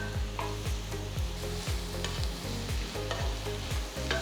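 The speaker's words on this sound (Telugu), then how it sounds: "టొమాటోలు బాగా మగ్గేంత వరకు వీటిని వేయించాలి" Chopped tomatoes, cashews, melon seeds and dried Kashmiri chillies fry with onions in a pan, a dense close sizzle broken by a steady run of rhythmic scraping stirs.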